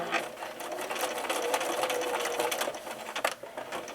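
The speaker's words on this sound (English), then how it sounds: "I'm at my machine, and with a normal stitch I'm going to start" Sewing machine running a steady normal stitch along bias tape on an ironing board cover, a continuous close whirring hum with slight speed variations and a brief stutter near the end.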